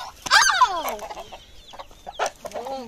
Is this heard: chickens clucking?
yes